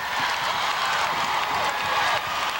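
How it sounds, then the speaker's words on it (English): A packed arena crowd at a 2002 WNBA game between the Minnesota Lynx and Los Angeles Sparks cheers and applauds steadily for the Lynx, a continuous roar with no pauses. "The crowd getting behind the Lynx here."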